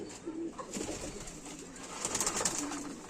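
A fancier's long-endurance flying pigeons coo in low, repeated bursts close by over faint rustling background noise, with a brighter cluster of calls toward the end.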